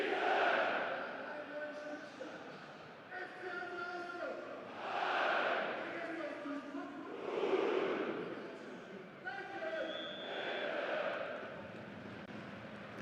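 A football stadium crowd at Ostseestadion, with Hansa Rostock playing MSV Duisburg in Germany's 3rd Division, roars and chants in surging waves after a goal, heard under a commentator talking.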